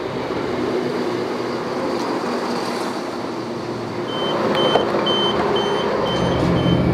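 In a video game, a class 171 train sits at a station with a steady mechanical hum and rumble, and a run of evenly spaced high beeps starts partway through.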